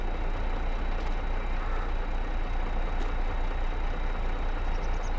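A tractor engine drones steadily in Farming Simulator 22, a continuous low idling rumble with a faint whine, fairly quiet and alone.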